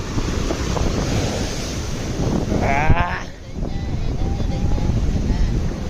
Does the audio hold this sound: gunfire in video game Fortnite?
no